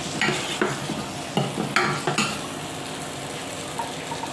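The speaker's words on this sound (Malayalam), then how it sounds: "മുളക് പൊടി എല്ലാം കൂടി അത് മിക്സ് ചെയ്യുകയാണ്" Spices such as chilli, coriander and turmeric powder being stirred in a frying pan for a Kerala-style curry, with a spoon scraping and knocking the pan in several irregular strokes over a steady soft sizzle, close and moderately loud.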